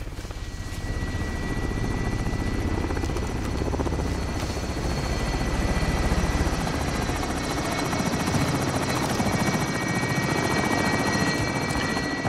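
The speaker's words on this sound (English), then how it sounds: "Helicopter is away." A helicopter's rotor thumps and whines steadily, loud and close, holding a constant drone for the whole stretch with no voices, in the video game Call of Duty: Warzone.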